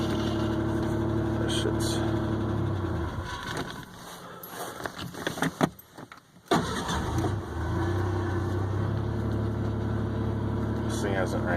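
A Ford Ranger engine cranks and fires, then runs rough and uneven at close range, with a sputtering gap and dropouts midway before settling back into a steady, labored idle; someone speaks briefly over it.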